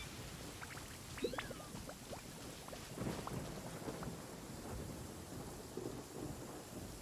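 Steady rainfall with rumbling thunder in a stormy Genshin Impact game scene, a continuous wash of rain and low rolls of thunder at moderate level with no talking.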